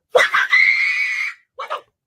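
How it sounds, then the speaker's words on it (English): A woman's shrill scream rings out from a played video clip, loud and sustained, then breaks off before a shorter second cry. "I just had to see her scream one more time"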